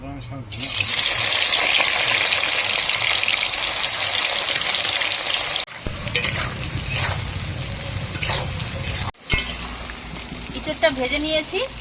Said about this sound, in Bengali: কড়াই তেল দিয়ে দিয়েছি গরম হলে আমি এই কাঁঠালগুলো ভেজে নেব